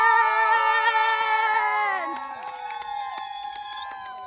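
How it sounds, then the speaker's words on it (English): Video game baseball crowd cheering as a pitcher takes the mound, a bright sustained roar with whistles and shouts that drops a little in loudness halfway through and then carries on steadily. "The crowd went wild for Nati"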